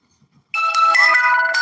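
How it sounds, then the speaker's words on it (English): A phone ringtone suddenly starts after a moment of near silence, a bright electronic melody playing loudly and close. "Oh, I'm getting a phone call."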